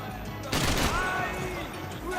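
Bursts of gunfire from the video game Max Payne 3 crackle through a gunfight, a sudden rapid volley of shots heading a short stretch of game noise, with talk mixed in.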